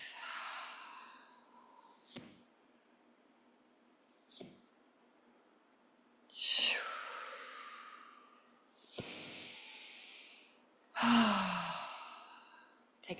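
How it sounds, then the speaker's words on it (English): Deep breathing during a full moon somatic ritual: several slow, audible inhales and long sighing exhales spaced a few seconds apart, close and soft, with no talking. "Take 3 deep breaths."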